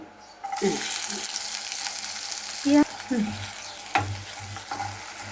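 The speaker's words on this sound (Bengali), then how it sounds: "পেঁয়াজটা আমি হালকা বাদামি করে ভেজে নেব।" Large onions frying in a pan to light brown for an eggplant and tomato dish, a loud sizzle broken by stirring scrapes and spoon knocks, with brief background sounds.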